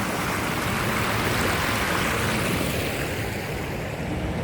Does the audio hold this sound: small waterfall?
yes